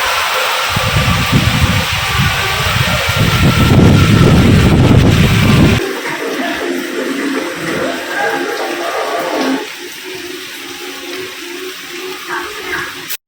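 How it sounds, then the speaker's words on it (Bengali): Strong wind blows in rumbling gusts during a rainy spell, loudest in the first six seconds, then drops to a lighter, steady whoosh with rain hiss continuing underneath. "দেখছি বেশ ভালোই জোরে জোরে হাওয়া দিচ্ছে,"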